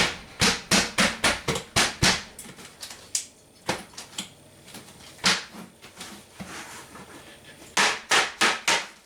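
A series of sharp knocks in quick bursts, a metal pan tapped repeatedly against a hard surface to release food, about a dozen hits with short pauses between groups.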